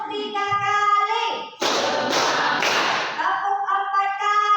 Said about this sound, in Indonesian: Tepuk 1 kali, tepuk 2 kali, tepuk 3 kali,